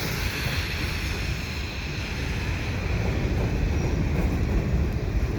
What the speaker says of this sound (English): see if I can get this train coming back